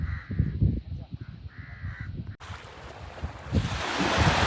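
Crows caw repeatedly around fish laid out to dry at a village seaside fish market, harsh calls over steady surf, wind and a person talking nearby.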